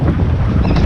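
Strong wind roars across the microphone on a fishing boat off Belize, a loud, steady buffeting rush with a hint of water underneath.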